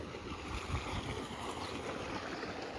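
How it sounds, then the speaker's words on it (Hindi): A water tubewell running in a date palm garden, pouring a continuous, steady rush of flowing water at moderate distance, with no voices. "पानी का ट्यूबवेल चल रहा है"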